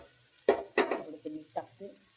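Paneer bhurji mixture stirred in a hot pan, a handful of distinct scraping strokes over a soft sizzle, close and moderately loud.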